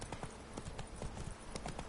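Horse hooves clip-clop in a steady, quick gallop rhythm from the video game The Witcher 3: Blood and Wine, moderately loud over a constant background wash with no talk.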